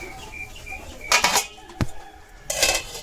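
A metal lid clanks onto a kadai of water and taro stolons, giving two or three sharp, close knocks and rattles with quiet pauses between them.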